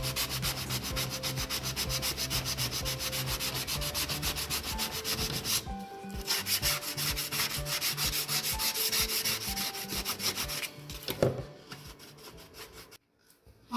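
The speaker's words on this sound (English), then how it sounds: "while I sand, just to keep things nice and even" Steady rhythmic scraping of sandpaper rubbed by hand across the grille of a 2005 Subaru STi, close and continuous strokes with a short pause midway and a few knocks near the end, no talking.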